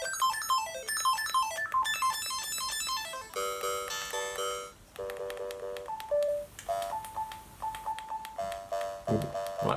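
Pocket operator synthesizer playing bright, bell-like electronic melodies whose tone shifts as its knobs are turned, moving from fast descending arpeggios to sustained chords and shorter pinging notes, close and clear with no voices.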